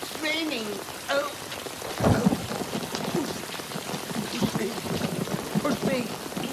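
Steady rain falls outdoors during a hurried nighttime flight on foot, a constant hiss beneath breathless voices talking over it.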